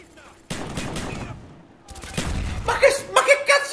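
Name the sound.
gunfire in the video game Call of Duty: Black Ops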